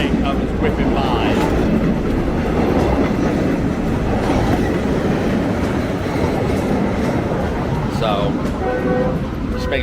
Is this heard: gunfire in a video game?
no